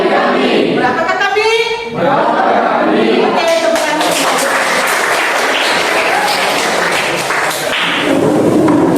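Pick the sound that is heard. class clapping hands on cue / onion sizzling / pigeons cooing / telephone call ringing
class clapping hands on cue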